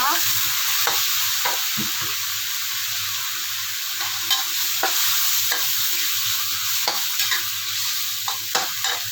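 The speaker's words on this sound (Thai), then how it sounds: "ผัดให้กุ้งสุกนะคะ" Shrimp stir-fried with shrimp paste in a hot pan, a loud continuous sizzle broken by repeated sharp spatula scrapes and clinks, close up with no talking.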